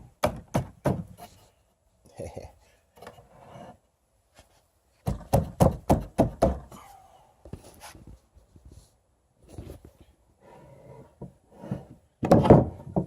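Sharp wooden knocks and thunks come in bursts as a dry-fit side panel of a wooden dresser is tapped apart in a workshop, with quiet gaps between clusters of close, loud hits.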